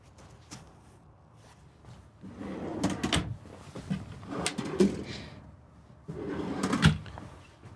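A silverware drawer in a 4x4 camper van slides open and shut several times, with rolling rumbles and soft thuds, close by and moderately loud.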